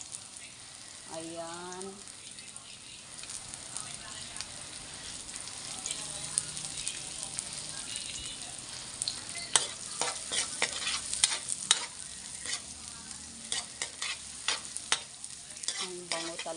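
White onion frying with garlic in a large wok: a soft continuous sizzle, a brief spoken word near the start, then clusters of sharp scraping and clanking stirs later on.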